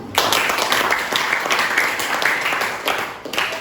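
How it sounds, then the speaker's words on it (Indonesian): Classroom applause from a group of students, a dense patter of many hands clapping steadily and fairly close, holding level for a few seconds before easing slightly. "Tepuk tangan untuk kita semua."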